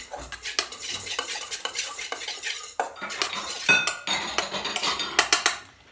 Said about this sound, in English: So really stir that well in.